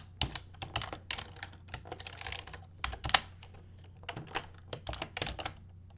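Fingers tap a computer keyboard in quick, uneven bursts of crisp clicks, close and fairly quiet, with short pauses between runs of keystrokes.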